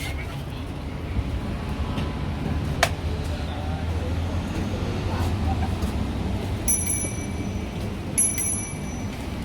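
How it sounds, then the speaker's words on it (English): A bicycle bell rings twice in quick bursts near the end, bright and fairly close, over steady street and traffic noise while riding along a canal in Thong Lor, Bangkok; a few voices are heard faintly. "Yeah, the bell always does his work."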